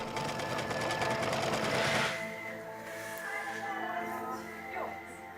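Sewing machine stitching in a library, a fast close mechanical whir for a couple of seconds that stops, leaving quiet room tone with faint movement.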